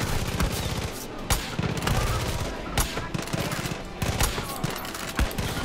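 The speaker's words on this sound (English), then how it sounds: "Taking heavy fire." Rapid bursts of automatic gunfire and sharp shots in a Far Cry 5 firefight, with a .308 carbine sniper rifle in play, loud and near with repeated volleys and impacts through the whole stretch.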